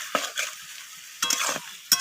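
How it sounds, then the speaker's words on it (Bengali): Chicken with turmeric and chili powder is stirred in a pan, giving a few bursts of scraping and soft sizzle with quiet gaps between them. "হলুদ আর লঙ্কা গুঁড়োটা দিয়ে নাড়াচাড়া করে নিলাম আমি"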